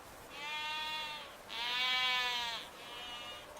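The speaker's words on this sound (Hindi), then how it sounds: "ये अवासी नस्ल की भेड़ें हैं" Awassi sheep bleating nearby, three drawn-out harmonic bleats in a row, the middle one loudest and longest, against a quiet background.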